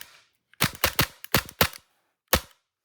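A Tokyo Marui Glock 19 Gen4 gas blowback airsoft pistol fires about six sharp, snappy shots in quick uneven bursts, then one final shot after a short pause, loud and close with silence between.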